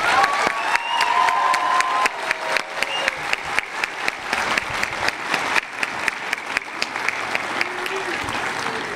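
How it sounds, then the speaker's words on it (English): A commencement crowd at a university humanities, arts and education ceremony breaks into loud, dense applause with some cheering early on, the clapping thinning into more distinct rhythmic claps toward the end. "Please give yourselves and your families a round of applause."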